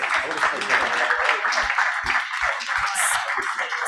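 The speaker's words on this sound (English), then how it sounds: "join me in giving this panel a big round of applause" A conference audience at COP27 applauds a wind and solar energy panel, steady dense clapping filling the hall for a few seconds, with a bit of chatter mixed in.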